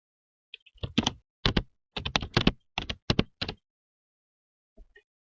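Password typed on a computer keyboard, a quick close run of about a dozen key clacks over three seconds, then two faint taps after a pause.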